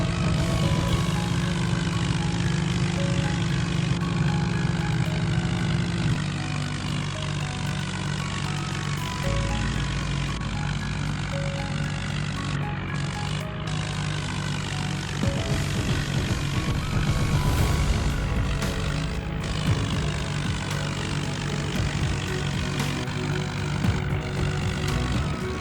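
A tractor and a Scorpio engine drone together, straining to haul an overloaded trolley on a farm track. The steady, loud low rumble runs unbroken for the whole stretch, with no voices over it.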